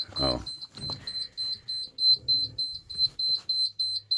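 A high electronic warning beep from a 1997 Kenworth W900L truck repeats steadily, about three per second, with a brief burst of voice and low engine rumble underneath at the start.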